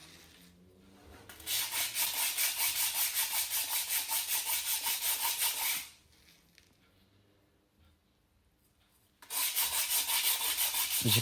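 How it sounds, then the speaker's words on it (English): Hand sanding vintage motorcycle shock absorbers with 80 grit sandpaper on a flat block, a loud, close, rhythmic scratchy rasp of rapid strokes in a long run, a quiet pause, then another burst. "Going with an 80 grit sandpaper, just to go over them with a flat block"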